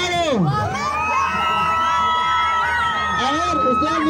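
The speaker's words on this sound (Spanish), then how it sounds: "Que se escuche el grito de los de este lado." A crowd at the 2024 Huamantla fair's bull-run burladeros parade shouts and cheers loudly and continuously, with many overlapping voices whooping close by.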